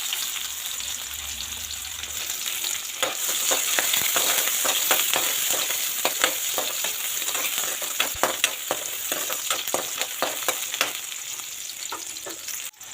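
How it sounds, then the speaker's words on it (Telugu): Chilli and onion frying in an oil-filled pan in a home kitchen, a steady loud sizzle with bursts of crackling and spatter and occasional stirring clicks, with no talking. "ఇప్పుడు చిల్లి వేసుకున్నాను. తర్వాత అయితే ఆనియన్ కూడా వేసుకున్నాను."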